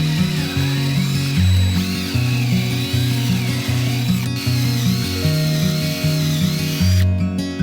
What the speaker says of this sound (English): I'm going to clamp it in place while I run some screws in